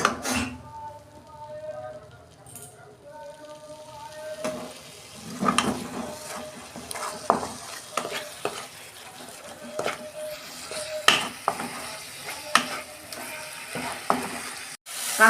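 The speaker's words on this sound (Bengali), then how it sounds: "মশলাটা কষাবো।" Spice paste of cumin and coriander powder with a little water is stirred and fried in a pan, a faint sizzle broken by repeated sharp scrapes and clinks of the spoon, with occasional quiet voices in the background.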